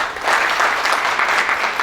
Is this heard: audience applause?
yes